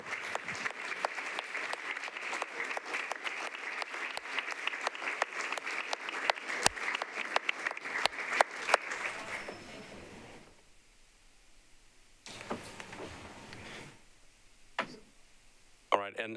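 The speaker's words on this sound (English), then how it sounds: "so if we could give them a round of applause." At a metro council meeting, the room gives a round of applause, scattered but steady claps for about ten seconds before fading into quiet, with a few brief bursts of clapping and faint voices afterward.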